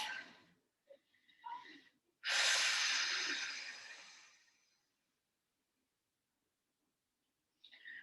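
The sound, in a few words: breathing during pilates exercise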